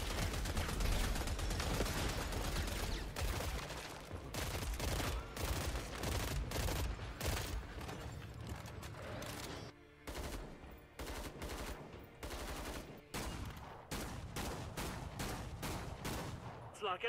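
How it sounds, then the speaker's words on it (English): Video game gunfire in Killing Floor: dense, rapid bursts of automatic weapon fire with crisp individual shots and short gaps, loud and continuous over the whole stretch, with someone speaking faintly underneath. "the weapon sounds are just so generic, it just lacks the oomph and punch that the KF2 weapons had."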